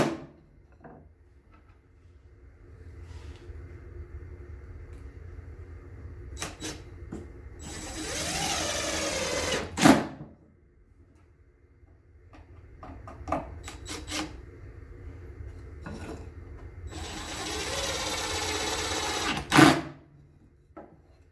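A power drill drives screws into a wooden two-chamber bat house piece, two long whining bursts rising in pitch, each ending abruptly, with quieter handling knocks and clicks between them.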